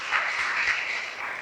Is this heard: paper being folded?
no